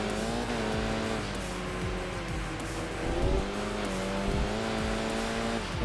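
Race car engine from the Enthusia Professional Racing video game droning loudly and steadily, pitch rising and falling with throttle, with brief tire squeal as the car slides; no talking.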